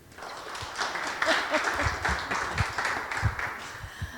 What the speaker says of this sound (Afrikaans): Gaan julle vir hande klap hê?